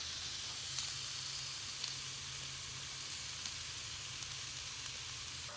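Food frying in a pan at an RV campsite near Flagstaff, a soft steady sizzle with faint scattered pops and a low hum beneath, no talking.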